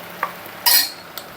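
Ground masala paste going into a simmering curry of cowpeas in a pan, heard as a short hiss and scrape of stirring with a couple of light utensil taps on either side.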